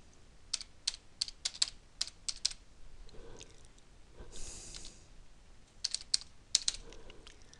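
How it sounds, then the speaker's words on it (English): Street address being typed on a computer keyboard: two bursts of quick, close, crisp key clicks with a quiet pause between, alone without talk. "You type in a street address,"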